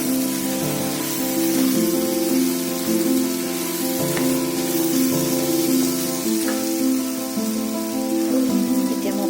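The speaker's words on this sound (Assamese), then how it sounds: "ঢাকনিখন উঠাই পেলাই মই আকৌ এবাৰ লৰাই দিলোঁ" Ridge gourd (jika) and moong dal cook in a pan, with a steady sizzle and bubbling and occasional clinks of stirring, under a constant tonal hum.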